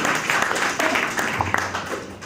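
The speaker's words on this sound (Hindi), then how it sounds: "एक बार जोरदार तालियों से जरा गर्म हो जाइए" Audience applause at a concert held in memory of ghazal poet Dushyant Kumar: a steady, dense burst of clapping from the crowd lasting about two seconds, with faint background tones mixed in.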